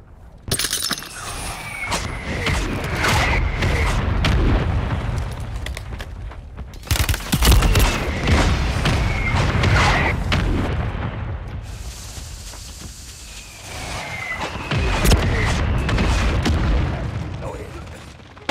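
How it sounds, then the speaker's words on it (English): Mortar strike explosions in a video game shooter, repeated heavy booms with shattering debris and bursts of gunfire, loud and dense, arriving in several waves with brief lulls between them. "Mortar strike on the way."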